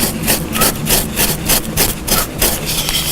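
Coarse 50 grit sandpaper is rubbed hard against foam in quick, regular back-and-forth strokes, each a loud, close, raspy scrub, about four per second, with no talk.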